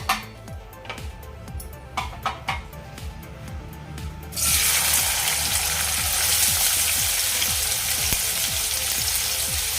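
Chopped onions hit hot oil for Agari-style dried bombil dry bhaji: after a few sharp clinks and taps, a loud, continuous sizzle erupts and carries on steadily up close.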